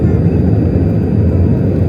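A fixed-wing passenger airplane on its landing approach into an airport near Jaipur, Rajasthan, gives off a loud, steady, low engine roar that fills the whole stretch without a break.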